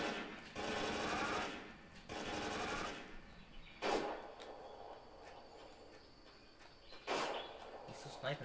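Sniper rifle shots from The End in the video game Metal Gear Solid 3 ring out as sharp, isolated reports a few seconds apart, following a stretch of louder game noise, with voices talking over them.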